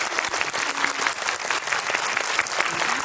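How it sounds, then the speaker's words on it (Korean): Audience clapping at a film screening Q&A in a cinema hall, a continuous loud wash of many hands with no one speaking over it. "큰 박수 부탁드립니다."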